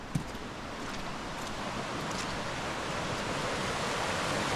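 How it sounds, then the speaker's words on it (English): Steady rushing of iron-rich river water flowing near a waterfall in a rugged Welsh landscape, a continuous broadband wash heard from nearby with no voices. "We've made it down to the flowing water."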